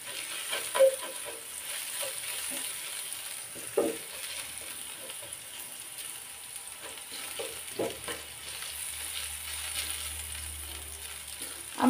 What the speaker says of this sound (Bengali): রসুনটা আমি প্রথমে একটু লালচে কালার করে ভাজি করে নেব